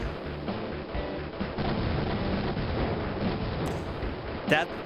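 Dense, continuous gunfire and explosive bursts from a shoot 'em up video game rattle on loudly throughout, with voices mixed in and a sharper hit near the end.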